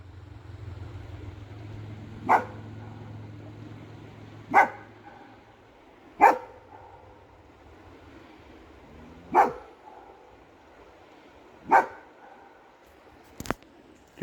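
A dog barks outdoors at ducks across a river, giving six single sharp barks spaced a couple of seconds apart over a quiet background with a low hum early on.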